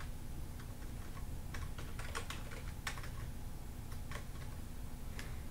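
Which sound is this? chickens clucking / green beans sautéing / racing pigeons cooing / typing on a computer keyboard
typing on a computer keyboard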